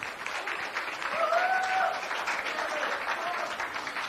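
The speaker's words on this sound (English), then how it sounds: "Give her a round of applause." A TV studio audience gives a round of applause to welcome a guest, continuous close clapping from a crowd with a brief whooping cheer riding over it.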